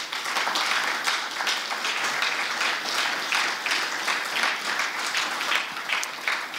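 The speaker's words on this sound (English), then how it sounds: "I hope we can give him a round of applause" Audience applause at an annual memorial lecture, a dense, sustained wash of many hands clapping from a large crowd, loud and even throughout with no talking over it.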